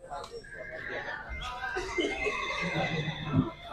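Horses and foals neighing at a horse market, a loud drawn-out whinny with a fluttering tail, set against busy market background noise.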